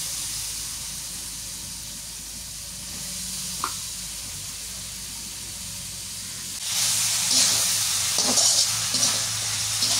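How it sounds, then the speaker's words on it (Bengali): Water lily stems from a wetland tumble into a pan of frying small fish, and a soft hiss turns into a loud, bright sizzle that keeps crackling close by. "মাছ কষানো হয়ে গেছে, শাপলাগুলো দিয়ে দিই।"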